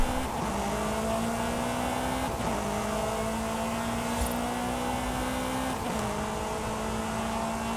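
A Lamborghini Centenario race car in a racing video game holds a steady, loud engine drone with harmonic tones that rise gradually, then drop at each gear shift, roughly three shifts across the run, with no talking.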